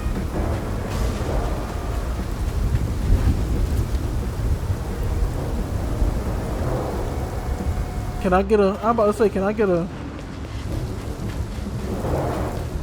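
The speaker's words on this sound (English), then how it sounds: "It's raining out here." Rain and rumbling thunder in the video game South of Midnight, a steady wash of rainfall with low thunder rolls, while a voice speaks briefly partway through.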